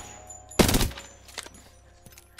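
In the battle royale shooter Apex Legends, a short, loud burst of gunfire hits first, followed by a few fainter, scattered shots trailing off over a quiet background.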